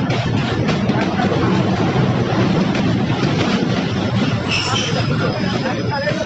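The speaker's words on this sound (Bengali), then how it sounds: "ট্রেন চলে আসছে।" A train arriving near the Padma River at Pakshi, Ishwardi, its steady loud rumble and rattle of wheels on rails filling the whole stretch, with faint high squeal near the end.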